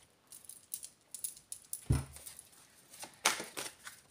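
Oracle cards being laid down and shuffled over a pile during a card reading, soft papery taps and rattles at irregular intervals, with a couple of louder slaps of a card hitting the stack.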